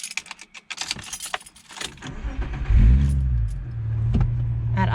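Keys jangle before a Subaru Liberty 3.0R Spec B starts, its engine cranking and catching into a loud, rising rumble that settles into a steady idle.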